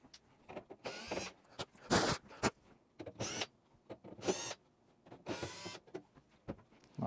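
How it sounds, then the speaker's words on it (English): Screws being backed out of the blower cover on an over-the-range microwave, heard as bursts of whirring power-driver noise broken by short pauses, close and fairly quiet, with no talking. "we're going to take out these screws for this cover."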